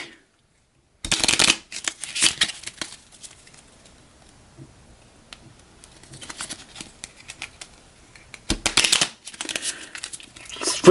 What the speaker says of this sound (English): So we're shuffling the environment trash into the deck.